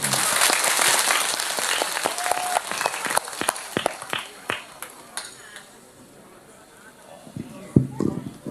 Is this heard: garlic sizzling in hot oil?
no